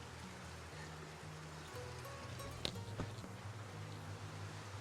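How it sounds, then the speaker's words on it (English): Stream water flowing back into a desert cave along a creek, a steady gentle gurgle and rush with a couple of small splashes, heard alone and fairly close. "the water's flowing back into this cave"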